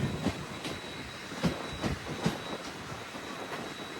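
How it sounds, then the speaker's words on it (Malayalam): A passenger train on the Nilambur Road to Shoranur line pulls into Pulikkalur station, its wheels striking rail joints in a rhythmic series of clacks over a low rolling rumble, heard up close. "ട്രെയിൻ ഇപ്പോൾ പുലിക്കലൂർ സ്റ്റേഷനിലെത്തി."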